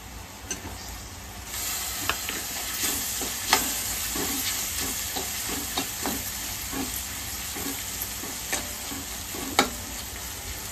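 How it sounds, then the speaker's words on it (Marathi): Prawns fry with spices and tomato in a pan, giving a steady close sizzle and hiss, with occasional sharp clinks of a spoon stirring. "आणि आता आपण ही कोलंबी फ्राय करून घेणार आहोत."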